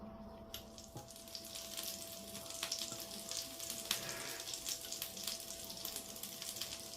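Falafels frying in a pan over moderate heat give a soft, steady sizzle and crackle, faint and close, with occasional small clicks and pops throughout.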